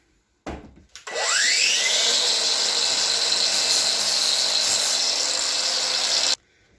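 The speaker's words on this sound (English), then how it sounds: "I generally just use the flap wheel to gently trim up what I want to trim up" A flap wheel on a power tool spins up and grinds steadily against a metal nose rib for an aircraft wing, a loud continuous whirring rasp for about five seconds before cutting off abruptly.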